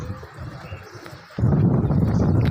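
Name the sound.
pigeons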